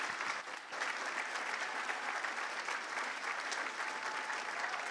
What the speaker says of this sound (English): So we'd just like to give you a huge round of applause tonight